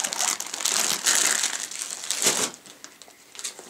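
A soft-sided pop-up cooler (COOLERZ by Fierce Products) is pulled out of its plastic bag, giving loud, close, continuous crinkling and crumpling of plastic with no talking.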